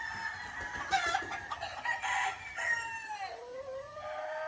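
Claret Kelso cross gamefowl roosters on a game farm, several overlapping crows and clucks at moderate volume, one long crow trailing off near the end.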